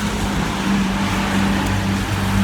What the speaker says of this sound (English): Obviously, walking down the main road into town, so car noise.